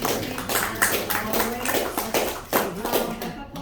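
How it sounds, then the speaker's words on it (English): A small audience at a Long Realty Partners presentation claps in a fairly even rhythm of sharp, close hand claps for a few seconds, and the clapping thins out at the end. "Let's give these folks a round of applause."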